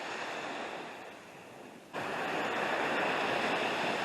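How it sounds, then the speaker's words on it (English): Surf rolling onto a beach, a steady broadband wash that dips briefly then surges back louder as a wave comes in, with some wind noise and no voices. "The waves coming in."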